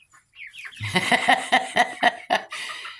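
A cockerel crows once, close and fairly loud, in a pulsing series of harsh rising-and-falling notes after a few faint clucks.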